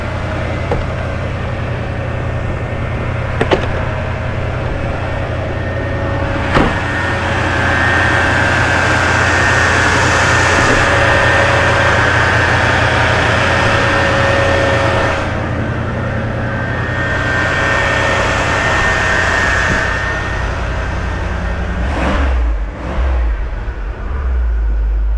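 A 1978 Corvette Pace Car engine idles with a deep rumble, then revs up several times, rising and falling, before settling and cutting out near the end.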